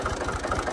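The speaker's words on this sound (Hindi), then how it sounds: "अरे आवाजें आ रही हैं ट्रैक्टर के अंदर से।" A tractor engine runs during a groundnut harvest, a close, steady low chugging with regular pulsing beats, heard alone for under a second.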